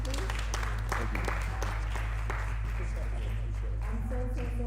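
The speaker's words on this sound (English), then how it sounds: "let's clap for the speaker one more time, please" Audience at a men's mental health and wellness community gathering applauds warmly for a speaker, a steady burst of many hands clapping close by, with a low hum underneath and some voices mixed in.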